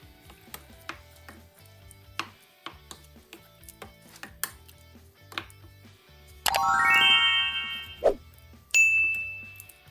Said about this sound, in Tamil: பச்சை மிளகாய் சின்ன வெங்காயம் எல்லாம் நல்லா சின்ன சின்ன வெட்டி இதுக்கு மேலே போடுவோம்